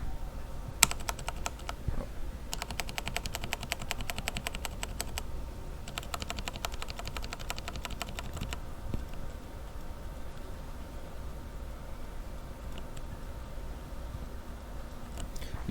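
A Corsair Strafe keyboard with Cherry MX Red switches, lubed and fitted with O-rings, is typed on in quick bursts. The keystrokes are soft, muted and fairly quiet, and close pauses separate each flurry.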